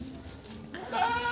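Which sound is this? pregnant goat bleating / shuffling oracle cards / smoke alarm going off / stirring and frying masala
pregnant goat bleating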